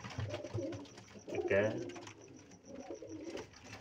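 Sialkoti Jamsari pigeons coo in short soft bursts, with one louder rolling coo in the middle, all under someone talking close by.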